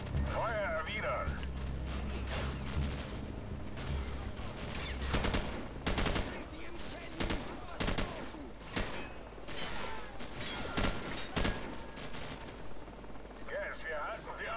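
Firefight in Modern Warfare: repeated sharp gunshots and automatic bursts crack out at irregular intervals over a low rumbling background, loud and close, with a voice talking at times.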